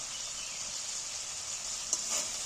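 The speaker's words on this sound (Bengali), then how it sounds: "এবার আমি মশলাটাকে ভালো করে কষিয়ে নিই" A Bengali spice paste sizzles steadily in a hot pan while being cooked down for an egg dish, with a loud, even hiss and a brief scrape of stirring near the end.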